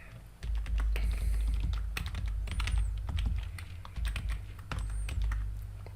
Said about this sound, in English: I'm pressing enter to validate.